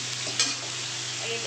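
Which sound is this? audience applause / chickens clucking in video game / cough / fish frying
fish frying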